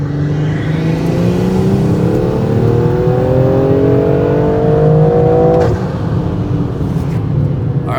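A big-turbo BMW M340i running E85 accelerates hard, its engine note climbing steadily in a loud, close drone through the gear, then dropping off at the shift before pulling again.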